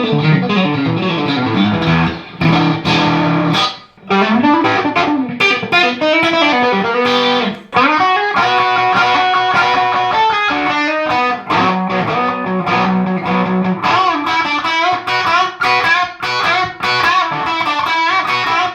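An electric guitar played through an Orange Terror Stamp amp into an Orange 212 cabinet rings out loud and close, with driven, slightly distorted chords and riffs broken by brief pauses.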